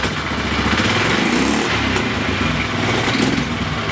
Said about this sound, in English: Still backfiring a little bit.